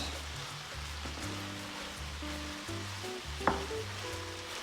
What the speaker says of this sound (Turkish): Hemen şöyle mantarlarımızı da ekliyoruz. Hepsi beraber kavrulacaklar.